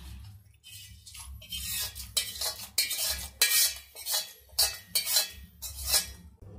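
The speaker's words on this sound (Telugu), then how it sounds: "ఇప్పుడు ఈ తాలింపు మొత్తం ఈ ముక్కలకి కలిసేటట్టు ఒకసారి కలపాలి" A spoon stirs cooled tempering into cut mango pieces for an instant pickle, giving about eight rhythmic clinking, scraping strokes against the dish, close and clear with no talk.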